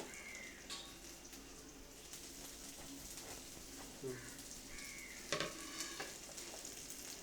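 Kuzhi paniyaram batter cooking in the hollows of a paniyaram pan, a faint steady sizzle with a few soft clicks and taps, quiet and close, no speech over it.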